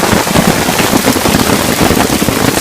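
Steady hail pelts a campsite on a long-distance trail, a loud, dense, continuous clatter of countless tiny impacts with no gaps.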